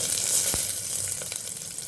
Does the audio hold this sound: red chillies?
yes